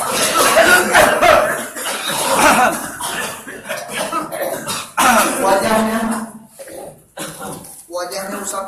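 Several people coughing and clearing their throats during a ruqyah healing session, repeated harsh bursts overlapping in an irregular rhythm, loud and close, with a voice speaking among them.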